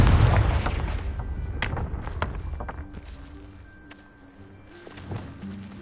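A heavy blast from the Confringo spell in Hogwarts Legacy opens loud and booming, then trails off into scattered thuds and crackles that fade over several seconds.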